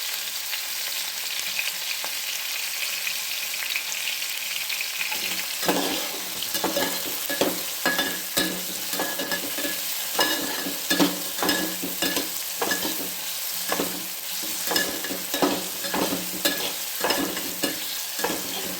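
Tomatoes sizzle and fry in a pan for a curry, with a spoon stirring and scraping in repeated bursts over a steady frying hiss, no voices.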